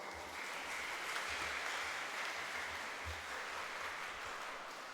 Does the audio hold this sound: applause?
yes